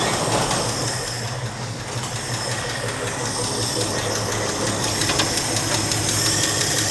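A car engine runs loud and steady up close, with a rough, rumbling drone and a slight rise in pitch partway through.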